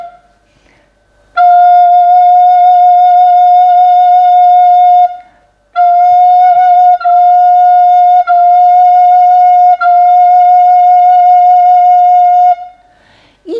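A long, steady F held on a recorder for about three and a half seconds, then several more separate tones on the same pitch. Clean and clear, with no voices over it.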